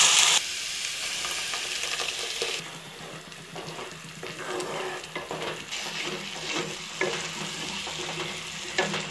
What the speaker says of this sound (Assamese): পিঁয়াজ আর বিলাহীখিন ভাজ খাইছে।